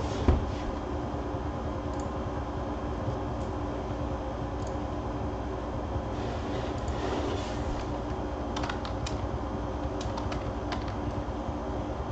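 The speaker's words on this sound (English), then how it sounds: "What am I doing typing?" Sparse keyboard typing on a computer, a few faint scattered clicks and short bursts over a quiet room tone, with no one talking.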